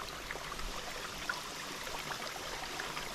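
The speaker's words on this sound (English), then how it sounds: "That's the waterfall." A waterfall near a campsite among rocks, heard as a steady broadband rush of falling water, moderately distant and unbroken, with no voices.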